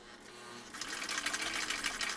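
A 1959 Husqvarna Viking CI-21A sewing machine stitching through compressed felt hums quietly, then speeds into a steady, fast mechanical chatter. It sounds close and soft, with no voices over it.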